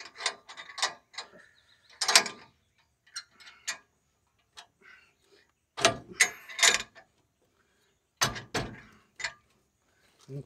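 A sickle bar mower cutting a hay field gives intermittent bursts of rapid mechanical clattering and ticking, moderately close, separated by short silent gaps.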